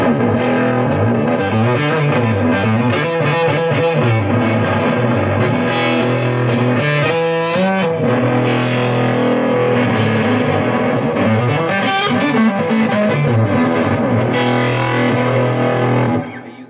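Loud, heavily distorted electric guitar played through a T-Rex Electronics Quint effects pedal, with shifting, warbling tones that carry on steadily before cutting off at the end.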